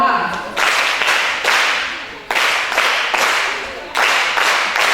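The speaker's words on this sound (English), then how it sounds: "Alright, let's clap for her." An audience claps in several sharp bursts during a teaching session, each burst starting abruptly and then fading, close and fairly loud, with brief gaps between rounds.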